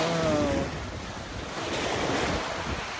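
Waves wash onto the shore at Guinsularan beach in a continuous surf roar, with wind buffeting the microphone and nobody speaking.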